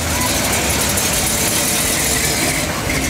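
A 1969 Dodge Charger with a 440 engine and four-speed manual idles in a convoy procession, a steady, dense mechanical rumble with no break.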